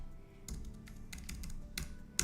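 Computer keyboard keys are tapped in short scattered bursts of clicks, close and fairly quiet, with brief pauses between the shortcut presses.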